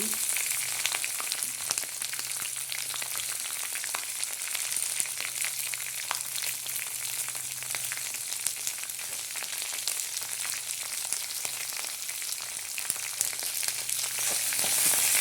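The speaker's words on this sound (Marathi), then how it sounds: "कांदा टाकलेला आहे हे परतून घ्यायचं चांगलं जाऊन होईपर्यंत" Onion sautéing in a pan for upma makes a steady, continuous sizzle with a broad crackling hiss, close and fairly loud, holding evenly for the whole stretch with no talking.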